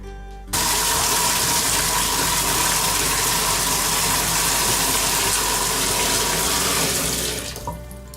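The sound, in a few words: refilling a 2.5 gallon aquarium with water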